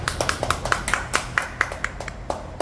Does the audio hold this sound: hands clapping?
yes